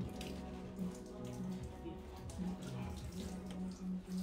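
Water runs steadily from a tap or flows indoors near a slippery staircase, a constant wash of splashing under faint background voices.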